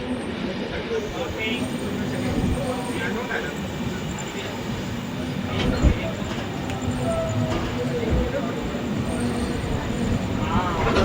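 Superfast sleeper train 22659 pulls into Kasaragod railway station with a low, continuous rumble and rolling rail noise building steadily, while a person talks over it.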